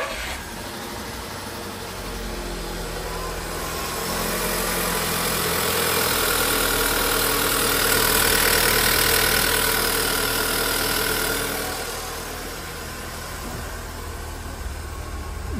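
A 2010 VW Golf engine idling during water pump and belt replacement, a steady close mechanical hum with a hiss that swells in the middle and settles back, with no talking.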